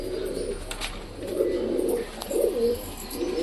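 Pigeons coo in low, rolling phrases close by, a few soft calls rising and falling over a quiet room hum with occasional faint chirps.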